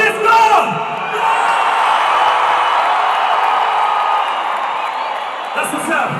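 A large crowd at a concert in Kigali cheers and ululates together in a loud, sustained roar with whoops and yells rising over it, fading slightly toward the end.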